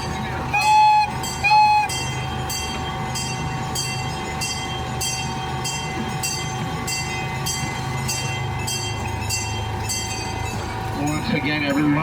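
A small zoo train running along its track gives a steady rumble with rhythmic clicking from the wheels and two short horn toots near the start, heard from on board.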